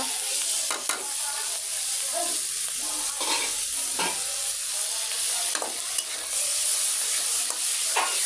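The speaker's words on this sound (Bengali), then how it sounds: "আমি এই চিংড়ি মাছ এর সঙ্গে কষাই নেব" Prawns sauté in a hot pan with a steady bright sizzle, and a spatula stirs them in periodic scraping strokes that rise briefly above the frying hiss.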